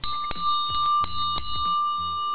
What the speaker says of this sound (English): So let's just roll that little gong here.